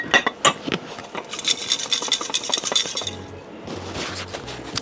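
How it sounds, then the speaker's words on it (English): A lidded container full of giveaway name slips is shaken up close in bursts of rattling, clinking and shuffling, and a few soft low knocks come near the end. "So I'm gonna put the lid on so I can shake it."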